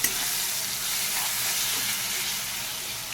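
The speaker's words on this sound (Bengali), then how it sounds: "খুব ভালো করে মশলাটাকে মিশিয়ে নেব।" Tomato and ginger garlic paste masala fry and get stirred in a pan for patal jhal, giving a continuous, close, even sizzle with no pauses.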